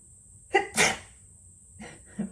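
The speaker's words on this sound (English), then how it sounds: "Don't mean to sneeze, but I mean, what can you do about it?" A single sharp sneeze from a person, loud and close, followed by a quieter breathy sound and a soft vocal tail in an otherwise quiet room.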